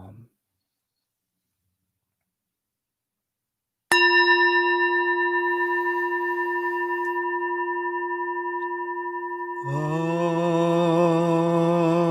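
A meditation bell is struck once and rings out alone, a loud tone that hangs and slowly fades over several seconds, then a second strike swells in richer near the end.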